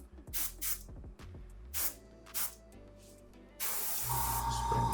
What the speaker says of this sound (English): Just spray a little bit of air now.